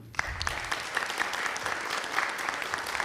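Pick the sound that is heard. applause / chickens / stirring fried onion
applause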